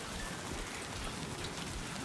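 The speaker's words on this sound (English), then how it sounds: "Heavy rain sometimes causes rivers." Rain falls steadily in the video game Death Stranding 2, a dense, even hiss of drops on surfaces with no pauses and no voices.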